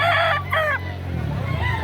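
A young rooster (stag) crows loudly and close by in one drawn-out call at a poultry market, then fades into a low, rough background murmur.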